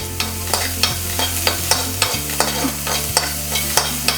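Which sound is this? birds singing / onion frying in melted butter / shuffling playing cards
onion frying in melted butter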